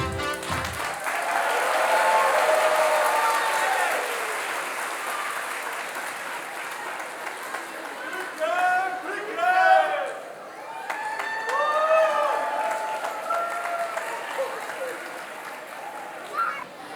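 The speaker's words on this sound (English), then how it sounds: "Let's give them another round of applause." Audience applause at a school annual day after a pre-K children's performance, a sustained patter of many hands with cheering and excited voices rising over it near the end.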